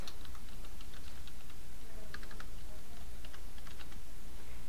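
A search term being typed on a computer keyboard, rapid light clicking keystrokes in irregular bursts over a few seconds, close and clear with no talk.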